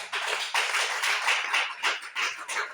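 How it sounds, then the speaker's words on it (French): Church congregation applauding for the Lord, a dense, continuous patter of many hands clapping in uneven waves for a few seconds. "Applaudis pour le Seigneur."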